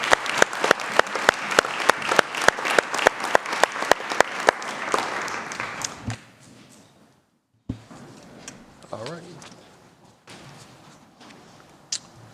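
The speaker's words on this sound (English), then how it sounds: "Let's give them a round of applause for all the hard work, for two years of hard work." A city council meeting audience claps for committee members: loud, sharp clapping fades out by around six seconds, followed by quiet room noise with scattered thumps and shuffling.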